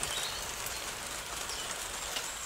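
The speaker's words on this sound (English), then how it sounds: "It's raining. You can hear that." Steady rain falls on a Wednesday morning in Ireland, a dense, even hiss of drops on surfaces filling the whole stretch with no pauses and no voices.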